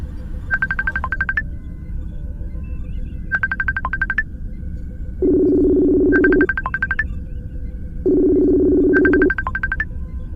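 A phone call being placed back from a podcast setup sounds as two repeating chimed dial-tone bursts that alternate with two longer, lower ringback tones. The pattern is clear and steady and plays alone without speech.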